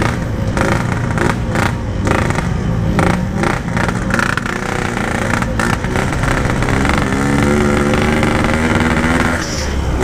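A motorcycle with a badly tuned carburetor revving loudly and continuously close by, uneven rough engine roar rising and falling with throttle, its harsh exhaust note dominating throughout.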